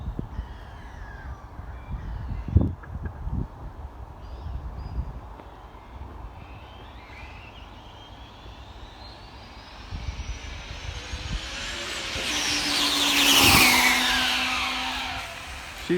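An Arrma Limitless RC car with a Castle 1100kv motor on foam tyres makes a speed run down a dry road: a faint whine builds into a loud, rising electric scream as it passes close, then drops away.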